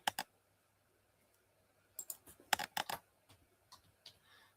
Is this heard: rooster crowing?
no